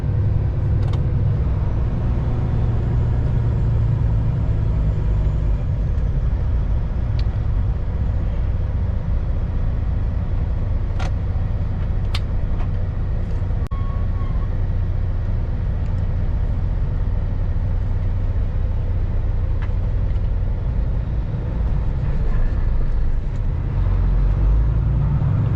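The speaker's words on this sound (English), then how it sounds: "That's bus number 352, Chicago Heights." A Chicago Heights bus, number 352, rumbles past on an Illinois road, its low engine drone loud and steady throughout with faint clicks and traffic noise.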